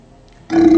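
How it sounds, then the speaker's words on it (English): A loud, close burp from a man, a single low rumbling belch that starts abruptly after a brief quiet moment and holds steady to the end. "I'm gonna burp again."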